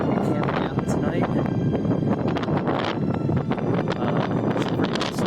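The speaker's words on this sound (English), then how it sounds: "It's been pretty windy." Strong wind at Elizabeth Lake in Glacier National Park buffets the microphone in continuous rumbling gusts, loud and close, with faint rustling underneath.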